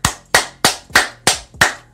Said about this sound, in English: booty clapping sounds